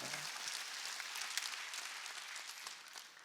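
Church congregation clapping hands during a Wednesday worship service, a steady dense wash of applause that runs continuously throughout at moderate level with no voices on top.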